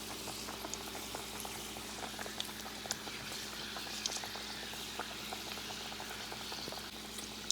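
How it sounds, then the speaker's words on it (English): Parippu vada, Kerala dal fritters, sizzling in hot oil, giving a steady bubbling crackle with scattered sharp pops throughout and no talk. "when you drop the vada in oil, it goes down, okay, into the oil"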